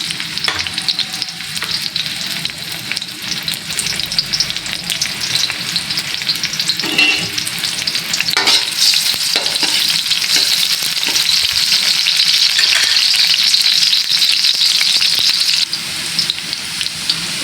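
Chopped onion sautés in hot oil in a pan, a loud, steady sizzle and crackle that runs throughout, with occasional stirring scrapes and no talking.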